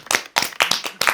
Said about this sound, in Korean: 우리 또 박수 한번 쳐요